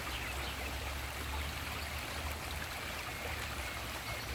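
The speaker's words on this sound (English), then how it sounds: "Beautiful, beautiful creek." A creek flows steadily, a continuous broadband wash of running water with a low rumble, even and unbroken throughout, with no voices.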